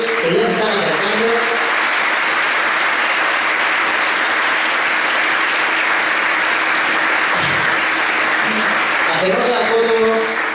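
Sustained, dense applause from an audience at an industry awards ceremony, clapping loudly and evenly for about ten seconds with a few voices heard at the start and end.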